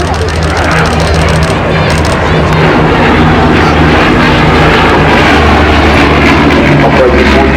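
Engines of a Bristol Blenheim Mk.I, the twin-engine aircraft operated by the Aircraft Restoration Company, drone steadily and loudly throughout, a continuous low rumble with a sustained hum that never lets up.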